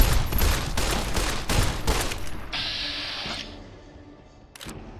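Rapid 10mm pistol shots from the video game Fallout New Vegas ring out in a quick burst of several loud, close cracks, followed by a brief high electronic tone and one last sharp hit near the end.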